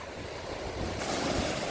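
Strong sea waves roll and break along the Black Sea shore at Fontanka near Odesa, a continuous heavy surf roar mixed with gusty wind buffeting the microphone, swelling louder partway through, with no voices.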